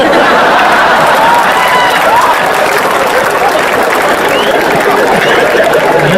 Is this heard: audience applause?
yes